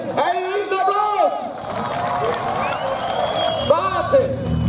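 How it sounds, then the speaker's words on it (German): Crowd cheering and clapping at an outdoor tractor pulling event in Trautenfels in the Ennstal, Austria. It is a steady, broad roar with a few whoops, heard under an announcer talking over a loudspeaker. "Einen riesen Applaus!"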